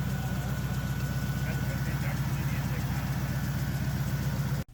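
A Flathead Ford engine idles steadily up close, a low, even rumble with a regular pulsing beat that holds for several seconds before cutting off abruptly at the end.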